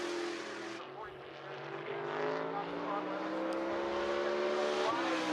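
A race car circles the track at The Bullring at Las Vegas Motor Speedway, its engine droning in a steady, slowly rising pitch at moderate distance, with an announcer talking over it.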